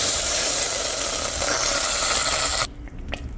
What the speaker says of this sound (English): Melt your butter down.